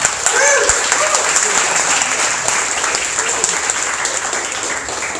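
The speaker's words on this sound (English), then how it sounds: "please help me welcome on stage with a loud round of applause, CashFi" A loud, steady round of applause fills a startup demo day stage in Taipei as the startup CashFi is welcomed on, with dense clapping from a large audience and a few cheers scattered through it.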